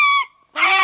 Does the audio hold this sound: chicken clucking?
yes